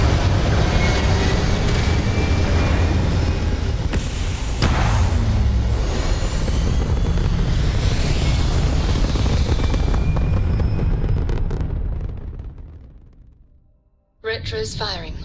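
A spaceship lifts off in the Starfield video game, a loud roaring thrust blast that swells with booms, then fades to near silence before a new game sound cuts in; a voice talks over the start.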